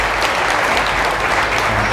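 Thick, loud audience applause fills the whole stretch without a break, a steady wash of many hands clapping at a Marathi talk.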